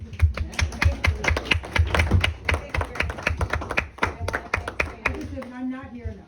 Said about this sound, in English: I'm gonna clap for you.